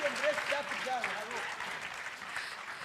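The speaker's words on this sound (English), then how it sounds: "A round of applause for them as they take back to their seats." Audience clapping for forum panelists as they walk off stage, a steady moderate wash of applause with a voice talking over the start.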